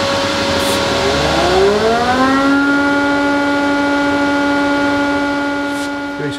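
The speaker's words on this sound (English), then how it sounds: "Then we'll start the extraction." A workshop dust extraction system starts up beside a lathe, its motor whine rising in pitch over about two seconds and then holding a steady loud hum.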